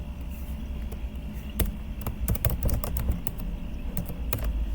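Keystrokes on a computer keyboard come in scattered bursts of clicks over a steady low room hum, with small clusters of taps and short pauses between them.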